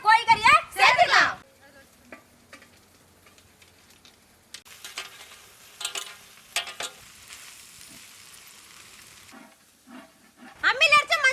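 Boiled, deboned, finely shredded chicken tossed into a pan with ground ginger and garlic paste for a snack filling, giving short bursts of frying sizzle and stirring scrapes between quieter stretches of low crackle and clatter.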